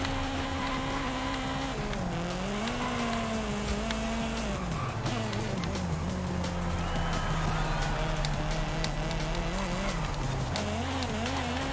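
A 1987 Nissan Skyline in a racing video game holds a loud, steady engine drone, pitch rising and dipping as it revs through the low gears, with faint tire noise and game sounds underneath.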